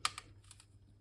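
Keys are pressed down onto their clips on an Amstrad NC100 notepad computer keyboard under restoration, giving a few sharp plastic clicks and snaps up close, two quick ones and then softer scattered taps, with no talking.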